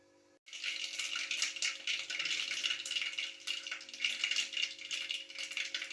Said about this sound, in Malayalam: അതിലേക്ക് കടുക് ഇട്ട് കൊടുക്കാം